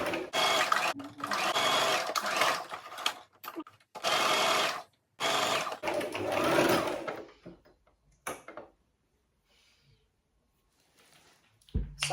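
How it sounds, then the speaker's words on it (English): A sewing machine stitches together pieces of fabric for a turban in several loud bursts of rapid mechanical whirring, separated by short pauses, before it falls quiet near the end. "Then carry on stitching."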